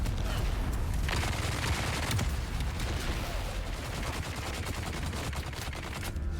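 Heavy weapon fire in the video game Dune Awakening, a dense continuous burst of rapid shots and impacts filling the whole stretch with loud, layered combat noise.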